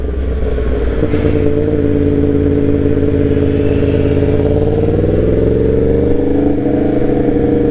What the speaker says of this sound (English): Here's a bike coming up beside me on the right hand side.